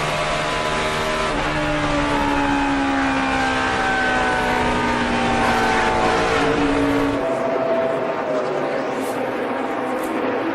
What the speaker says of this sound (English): So he's still running full throttle down the straightaways.